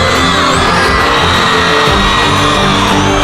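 A big student crowd at an Andhra University cultural fest shouts, whoops and cheers loudly and continuously during a political speech, a dense wall of voices close and overwhelming.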